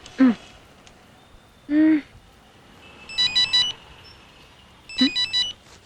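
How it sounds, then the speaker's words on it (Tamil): Telephone ringing in a comedy scene: a warbling electronic ring in short bursts, two ring cycles, with brief vocal exclamations in between, moderately loud. "என்ன ஏன் போன் அடிக்குது?"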